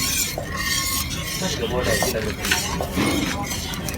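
Grass jelly mixture being stirred in a pot, continuous scraping and swishing with faint clinks of a utensil against the pot, someone talking over it throughout.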